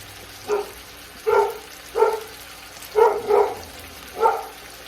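A dog barks six times at uneven intervals, some barks coming in quick pairs, moderately loud and slightly distant in a quiet room.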